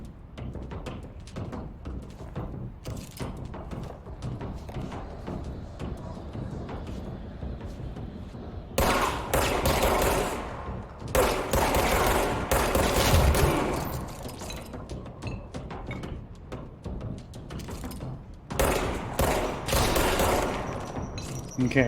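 Enemy gunfire in the video game Control, with loud bursts of rapid shots arriving in several clusters separated by quieter stretches, while a person speaks at times.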